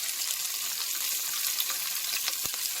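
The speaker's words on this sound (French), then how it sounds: "Je mets le poivron." Bell pepper pieces sizzle in a hot pan: a bright, steady hiss of frying that lasts throughout, with small crackles and a brief clatter near the end.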